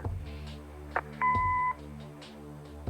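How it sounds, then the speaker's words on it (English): A single steady two-tone electronic answering machine beep in a video game, lasting about half a second, set against a low background hum with faint clicks. "Leave a message after the beep."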